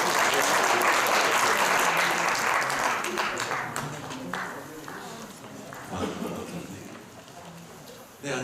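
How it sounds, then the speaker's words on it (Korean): An audience at a sports ethics lecture gives loud, dense applause that is strongest at the start and thins gradually, with scattered claps lingering near the end. "큰 박수로 맞이해 주시면 감사합니다."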